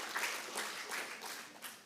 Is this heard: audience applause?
yes